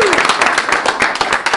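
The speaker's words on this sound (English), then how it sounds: "give yourselves a big round of applause." A small group applauds close by, a quick burst of dense, uneven clapping that fills the moment, with voices mixed faintly underneath.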